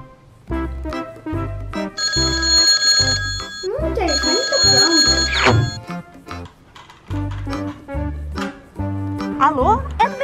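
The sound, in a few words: telephone ringing while calling the vet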